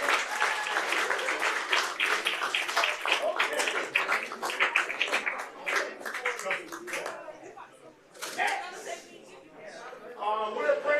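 Attendees at a city council meeting in Cocoa give a round of applause, a lively stretch of clapping that fades out midway and then returns in a smaller burst, with voices mixed in.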